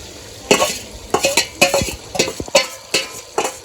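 Soaked soybeans being stirred in a sizzling pan for soybean biryani rice, with a run of sharp utensil scrapes against the pan in an uneven rhythm over steady frying hiss, close and fairly loud, no talking.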